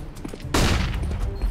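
Gunfire in Counter-Strike: Global Offensive, a sudden sharp burst of several rapid shots that then rings out briefly, loud and close with no talking.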